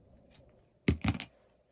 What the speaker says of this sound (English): so I'm going to cut one end of this open